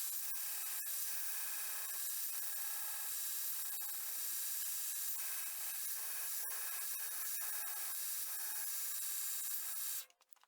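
Osage orange wood worked on a belt grinder with an 80 grit belt at low speed, giving a steady, even abrasive rubbing hiss that continues throughout and stops near the end.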